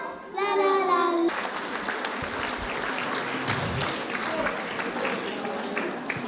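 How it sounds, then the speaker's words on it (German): Audience applause at a spring festival in a town hall, a steady wash of clapping that follows a short bright musical tone at the start. "der Applaus war denn ein bisschen leise?"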